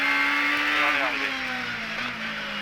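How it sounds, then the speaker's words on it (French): Sébastien Loeb's rally car at full throttle, its engine roaring loud and close from inside the cabin as a steady howl whose pitch dips and recovers slightly while driving. "Elle hurle vraiment cette voiture."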